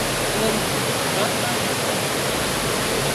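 Steady broadband rush of flowing water from a stream or small waterfall at a spring, continuous and fairly loud, with a faint voice underneath.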